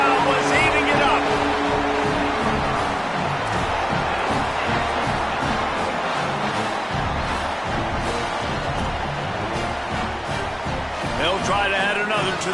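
A stadium crowd roars after a touchdown in a football video game, a dense continuous din with scattered thumps, under steady commentator talk.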